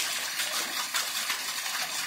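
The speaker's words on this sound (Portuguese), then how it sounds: "Mas é uma cachoeira bacana isso aqui." Clear fresh water pours steadily over a rocky natural waterfall into a stone basin, a continuous close rushing and splashing with no voices.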